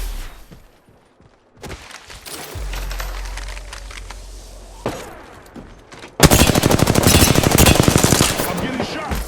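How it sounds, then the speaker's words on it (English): Rapid automatic gunfire from a firefight in Apex Legends, with repeated loud bursts and a dense, sustained volley near the end, layered over game effects. "I'm getting shot."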